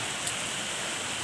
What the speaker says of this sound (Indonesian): suara gerimis hujan yang masih terdengar.